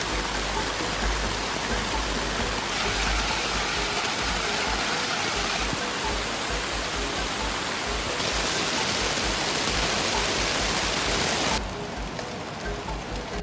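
Heavy rain pours down in a forest, a loud, dense and unbroken hiss of drops that continues steadily throughout without any voices.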